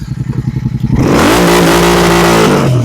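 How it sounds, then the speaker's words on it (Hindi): A Royal Enfield Continental GT 650 parallel-twin idles with a loping pulse, then revs hard to about 5000 rpm, holding a loud, steady, close roar before easing off. "यहाँ पे 5000 आरपीएम पे 5000 पे ले जाऊं।"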